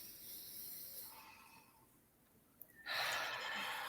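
A deep guided breath during a relaxed conversation, with a long, soft, airy inhale and then a louder, rushing exhale close to the microphone, no words spoken.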